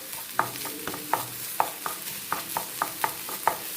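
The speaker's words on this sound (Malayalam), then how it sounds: "ഇതെല്ലാം കൂടെ ഒരു സൈഡിൽ നിന്ന് ഇതെല്ലാം കൂടെ ഇളക്കാം" A spoon stirring a beetroot and egg mixture in a hot pan: steady rhythmic scrapes and clicks against the metal over a light sizzle, close and alone.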